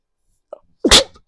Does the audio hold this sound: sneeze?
yes